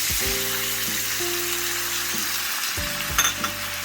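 Ground turkey, diced tomatoes and chili sizzling and frying in a single pot while being stirred, a steady crackling sizzle with a tonal hum underneath and a brief scrape near the end.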